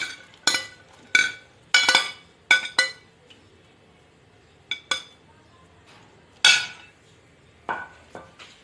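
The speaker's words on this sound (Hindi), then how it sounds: "प्याज ऐड करूंगी मैं इसमें।" Onions going into a pressure cooker with beef, a series of bright metallic clinks and taps as a spoon strikes the pot rim, irregular and close, with short pauses between.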